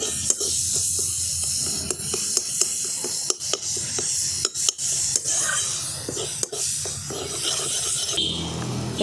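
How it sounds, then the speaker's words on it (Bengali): Spice paste with slit green chillies fries in oil for a Bengali bata fish curry with eggplant. A soft, steady sizzle runs beneath repeated sharp scrapes and knocks of a spatula stirring against the pan. "মশলাটা খুব ভালো করে কষানো হয়ে গেছে"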